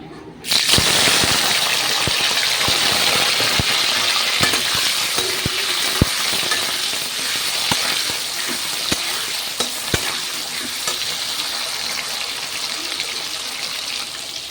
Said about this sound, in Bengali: এখন ওই একই তেলে আমি পনিরগুলোকে ভেজে নেব